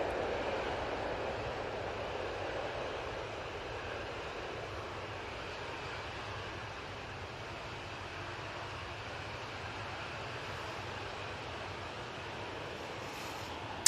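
A Boeing 737 jet heads away bound for Mahon, its engines a steady, moderately faint broadband roar that fades gently over time, with no voices present.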